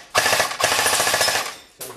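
An MG 42 airsoft electric gun fires BBs in two rapid bursts of evenly spaced shots, loud and close, then starts a third short burst after a brief pause.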